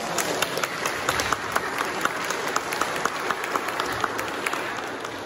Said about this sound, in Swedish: Kan ni inte ge Danne en applåd?